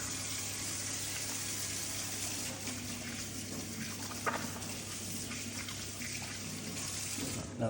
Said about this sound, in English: gonna wash them one more time quickly